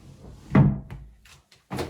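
A wooden pocket door reused in an en suite bathroom slides shut with a solid thump, followed by smaller knocks and rattles, close and distinct with no talk.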